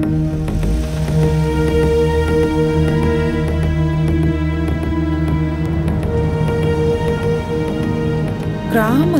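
Steady rain falls through a village scene from a Tamil film, a dense even patter running the whole stretch beneath a musical score with sustained tones, with no talk over it.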